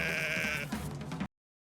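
A sheep bleats loudly and close up in a long wavering cry, followed by a shorter second bleat, at a family homestead in the Xinjiang border region.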